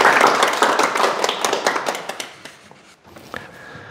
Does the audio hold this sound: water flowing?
no